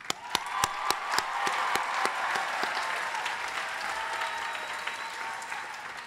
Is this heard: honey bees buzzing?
no